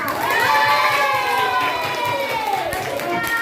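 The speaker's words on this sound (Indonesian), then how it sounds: "Beri aplaus yang meriah" A classroom audience applauds a group's presentation at a teacher-training session: steady, dense clapping mixed with children's shouts and cheering, continuous and fairly loud for several seconds.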